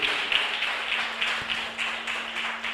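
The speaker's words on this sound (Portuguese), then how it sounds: "Bate palmas para Jesus, por favor." A church congregation claps steadily in rhythm, a dense, fairly even patter of many hands continuing throughout under a faint sustained hum.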